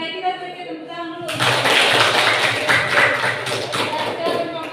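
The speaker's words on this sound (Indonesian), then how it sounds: "kita berikan tepuk tangan dulu" A classroom of students claps for a presenting group, a sudden full burst of many hands that sets in after a spoken moment and continues steadily and fairly loud to the end.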